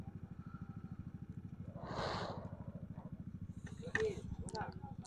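A group of four motorcycles rides together, three of them carrying passengers, on a long ride near Mt. Bulalo Bay, Laguna. A steady, rapid engine putter runs throughout, with brief clatter and a raised voice partway through.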